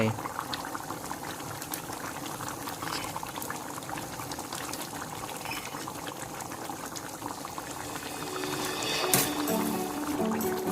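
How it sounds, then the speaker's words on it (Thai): Red curry with puffball mushrooms and young coconut shoots bubbles vigorously over high heat, a continuous close boiling and spluttering that swells slightly toward the end. "ใช้ไฟแรงนะครับ เคี่ยวสักพักหนึ่ง"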